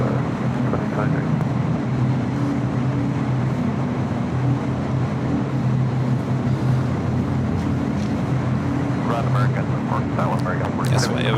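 A jet airliner taxiing and lining up for a south side takeoff at LAX airport, a continuous loud engine drone with a steady tonal hum throughout, heard under people talking.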